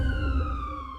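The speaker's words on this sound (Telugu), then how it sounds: "హా, అంబులెన్స్." An ambulance siren wails continuously with a steady, piercing electronic tone, fairly close and loud, with no speech over it.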